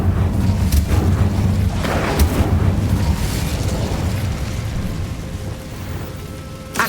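Incendio fire spell bursting in Hogwarts Legacy, a loud, sustained, crackling roar of fiery explosion that holds steady for several seconds, close and heavy, with no talk.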